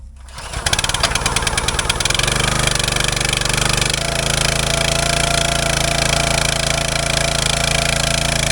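A cheap log splitter's small gas engine, stone cold, cranks and catches at once, then settles into a steady, loud idle with a rough, buzzing chug that runs alone without a break.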